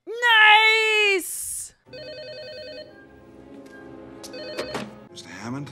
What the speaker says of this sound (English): Mr. Hammond, the phones are working.